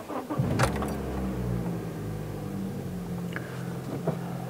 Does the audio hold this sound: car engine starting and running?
yes